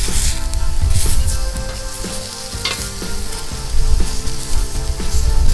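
Food sizzles steadily on a Camp Chef Explorer grill, giving a loud, continuous crackling hiss with occasional scraping from a utensil.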